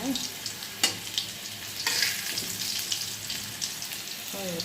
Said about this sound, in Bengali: আলু ভেজে তুলে পেঁয়াজ ভেজে মশলা দিয়েছি, মশলাটা কষা হচ্ছে